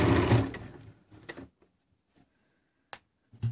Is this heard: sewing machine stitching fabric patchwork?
yes